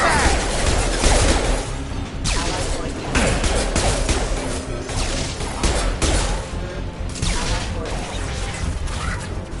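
Gunfire in the Mass Effect 2 video game: rapid, loud bursts of shots and impacts blend with battle noise and music, with a few hard cracks standing out and voices talking over the combat.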